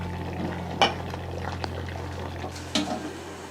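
A spoon stirs a rava mixture in a pan, giving a few soft scraping strokes and a couple of sharper clinks against the metal over a low steady hiss, close and fairly quiet, with no talking.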